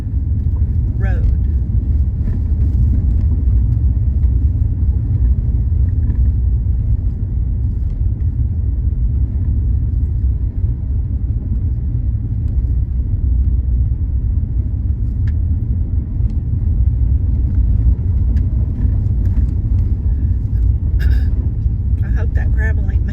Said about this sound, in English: I know there's road noise because of it, but I'm probably going a whole 5 miles an hour